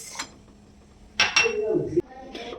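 A spoon stirs turmeric, coriander-cumin, garam masala and jaggery into a pot of spring onion kadhi, giving a few close metallic clinks and scrapes against the pot followed by a brief wet swirl.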